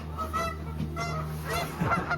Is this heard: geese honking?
yes